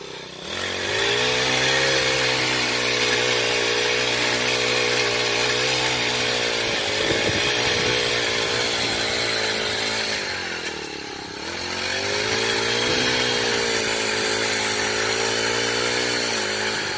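A homemade motorized auger digs a hole in wet soil around a young date palm, its small engine droning loudly and continuously, dipping briefly in pitch as the load changes midway.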